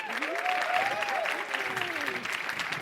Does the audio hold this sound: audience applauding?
yes